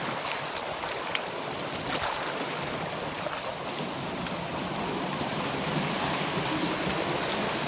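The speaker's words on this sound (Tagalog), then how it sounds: "Grabe ang hampas ng tubig." Water pounds hard as waves crash, a continuous rushing surge with scattered splashes and slaps that stays fairly even throughout, with no talking.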